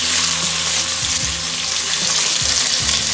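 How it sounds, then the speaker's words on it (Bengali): Green peas fry loudly in a pan, a dense close sizzle with a few scraping stirs, steady and uninterrupted by speech. "বেশ অনেকটা আমি কড়াইশুঁটি দিয়ে দেবো। এই পুরো জিনিসটা কিন্তু ভালো করে ভাজতে হবে।"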